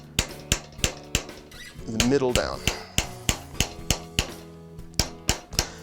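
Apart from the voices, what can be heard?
hammering metal bracelet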